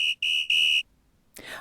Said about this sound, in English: Miss Fickle blew a whistle.